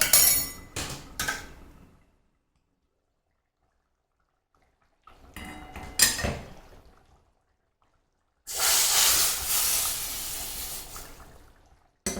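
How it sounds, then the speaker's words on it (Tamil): Early clanks of utensils are followed by quiet, then a loud, sudden burst of sizzling lasting about three seconds as hot tempering is poured into fish curry in a clay pot. "இதை அந்த குழம்புல எடுத்து ஊற்றிடலாம்"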